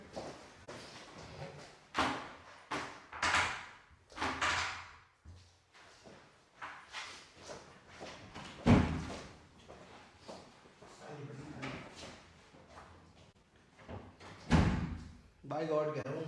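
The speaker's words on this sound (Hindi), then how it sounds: "दरवाजा बंद कर" Several heavy thuds and bangs of a house door being pushed shut ring out among sliding and knocking sounds, while people talk and argue loudly throughout.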